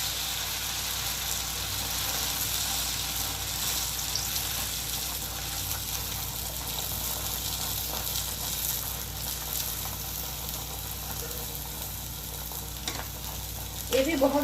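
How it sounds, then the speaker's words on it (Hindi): A kakara fritter fries in ghee in a wok, giving a steady, dense sizzle that fills the whole stretch, with a brief clatter near the end. "तो इससे अभी हम काकरा तलेंगे"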